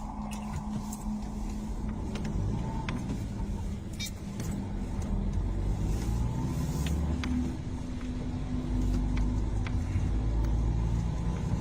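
A car drives along a road, its steady engine rumble and road noise continuous and fairly close throughout, with faint voices occasionally audible over it.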